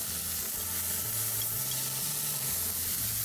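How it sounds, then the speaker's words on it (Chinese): Food pan-frying alongside scallions gives a steady, even sizzle and hiss for the whole stretch, with a low tonal hum sitting beneath it and no talking. "咁呢個咧就由得佢煎一煎先"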